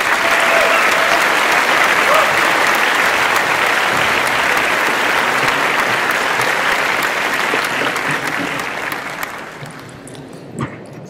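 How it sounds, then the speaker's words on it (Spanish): An audience at a press conference at the Guadalajara Book Fair gives loud, sustained clapping that gradually thins out and fades toward the end. "les pido un aplauso para una persona que ha sido clave también para entender, descifrar y compartir el rock, que es Enrique Blanc."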